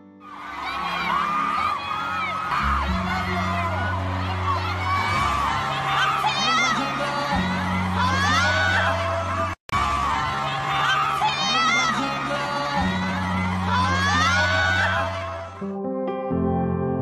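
A concert crowd of fans screaming loudly and continuously, a dense high-pitched roar of shrieks and cheers filling the whole stretch under backing music, with a brief dropout midway.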